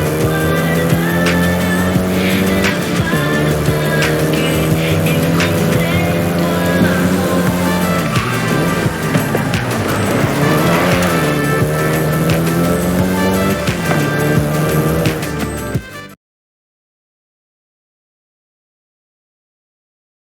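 A Volkswagen Golf GTI races in Forza Horizon 5, its engine revving loud and continuous with shifting pitch while tires squeal through corners, then the sound cuts off abruptly into silence.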